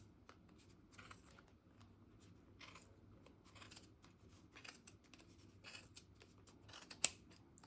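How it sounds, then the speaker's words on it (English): Quiet, close snipping and crunching of scissors cutting through soft machine-knitted fabric, a series of irregular cuts with faint rustling between. "you're going to take your scissors and you're gonna cut up the center here"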